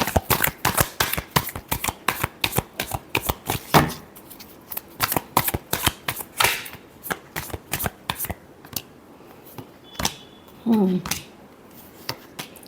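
Tarot cards are shuffled in quick, crisp riffling bursts, close and fairly loud, in an uneven rhythm with brief pauses and a soft voice speaking near the end.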